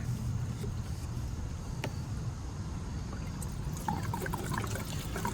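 Gasoline poured into the fuel tank of a 1960s Goodall three-blade mower, a steady low liquid gurgle and trickle running throughout, close and moderately quiet with no talking.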